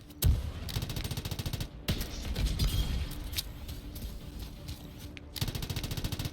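Rapid turret gunfire in the video game Anthem, bursts of repeated shots across most of the stretch with short pauses, loud and close against a game soundscape.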